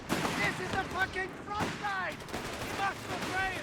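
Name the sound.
infantry rifle and machine gun fire in the video game Company of Heroes 3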